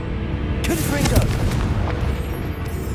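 Confringo blasting spell in Hogwarts Legacy, a loud, deep booming blast with a rushing, crackling burst, rolling rumble and swirling magical tones, close and sustained over a steady game background.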